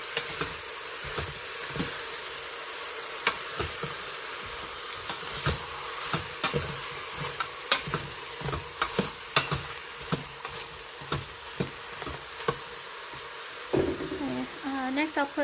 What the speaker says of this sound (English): going to add my onions. mix it up pretty well.